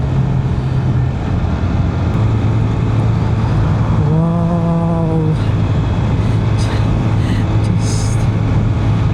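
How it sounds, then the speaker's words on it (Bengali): A car drives along Dhaka's 300ft Road with loud, steady engine and road noise throughout and a short, tonal horn-like blast partway through. "and engine sounds pretty good"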